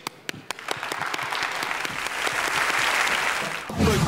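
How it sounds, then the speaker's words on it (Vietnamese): An audience claps steadily for several seconds, a dense, lively round of applause with a few sharper claps standing out near the start. "Một tràng pháo tay chào đón bà quý cô của chúng ta ngày hôm nay."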